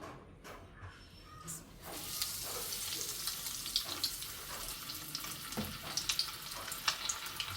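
Chicken drumsticks drop into hot oil and fry, a faint crackling sizzle that starts after a few soft knocks and carries on steadily with small pops.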